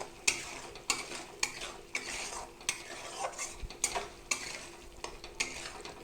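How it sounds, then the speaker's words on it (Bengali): Spice masala with salt and turmeric is stirred and fried in a pan, a spatula knocking and scraping in a loose rhythm over a quiet, steady sizzle, with no voices. "লবণ হলুদ দিয়ে এটাকে ভালো করে এখন আমি কষে নিই"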